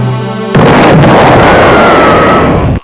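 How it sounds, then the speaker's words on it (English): After a short tonal lead-in, a loud, sustained cartoon gas explosion erupts and roars on for over two seconds before cutting off abruptly. "great explosions occurred."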